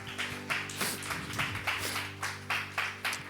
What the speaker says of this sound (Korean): 여러분 모든 이 영광을 하나님께 박수로 맞이하겠습니다